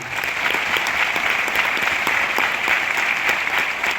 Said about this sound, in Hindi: सभी के लिए जोरदार तालियां होना चाहिए।